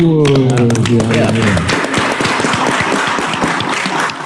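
Applause and hand clapping from an audience at a live comedy performance, starting just as a voice finishes and carrying on steadily and loudly for several seconds.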